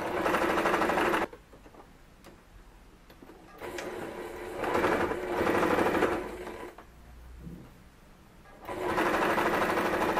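Sewing machine stitching fabric along the centre front seam of a ruffled dress, running in three loud bursts separated by quiet pauses.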